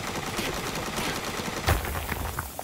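In the Palworld video game, Digtoise uses its skill to tear through a resource node, a dense, steady rattling roar with a heavy impact burst near the middle, heard alone without speech.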